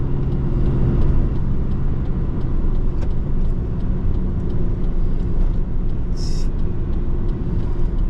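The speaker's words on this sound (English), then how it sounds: "And the big giant truck" A big truck drives through thick fog, its loud, steady engine rumble and road roar filling the scene, with a brief hiss resembling an air brake near the end.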